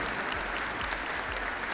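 A crowd applauds the sports minister at a welcoming event, a continuous, fairly faint wash of many hands clapping evenly with no voices over it.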